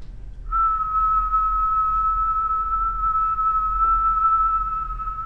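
A person whistles one steady, pure tone, held evenly for about five seconds, alone and close.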